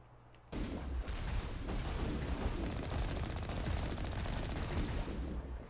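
Gun turrets in the Mass Effect video game open up after a brief quiet moment and keep firing as a dense, continuous barrage of blasts for several seconds. The shots are loud and close.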